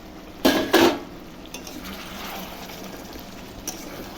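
A lid is lifted off a pot of chicken curry cooking with softened onions, giving two quick metallic clanks close by, followed by a faint, steady kitchen background.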